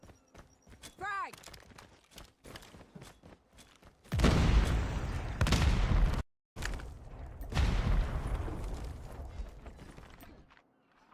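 Frag grenade blast and bursts of gunfire in a Call of Duty Mobile search-and-destroy match, heavy loud bursts in two long stretches after a brief pause, with a commentator's voice and lighter game effects before.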